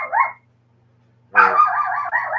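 A pet dog indoors gives a short bark, falls silent, then lets out a longer run of loud, close barking and yipping.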